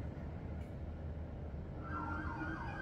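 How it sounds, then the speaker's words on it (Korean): Police car sirens wail faintly on a Los Angeles city street at night during a chase behind a city bus, rising over a steady traffic rumble near the end. "한밤중 사이렌 소리로 요란한 로스앤젤레스 시내도로."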